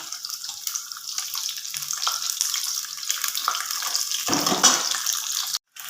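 Okra being fried in oil: a steady, close hiss of sizzling that swells slightly near the end and then briefly cuts out, with no talk.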